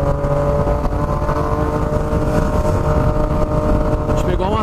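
A Ducati Diavel motorcycle accelerates hard on the road with a woman riding, its engine a loud, continuous roar with strong harmonic drone that rises in pitch near the end.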